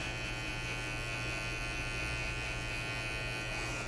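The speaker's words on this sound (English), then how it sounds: "And I'll use the electric shaver as well, because I like to really edge this line with that" Electric shaver buzzing steadily and continuously at close range while edging the hairline during a flattop haircut at a barber shop, with no talking.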